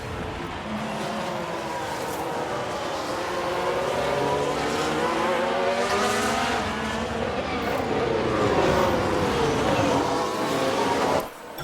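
Race cars from F1 Manager 2022 roar continuously through the whole stretch, engine pitch rising and falling as they spin out and skid, loud and steady until an abrupt cut near the end.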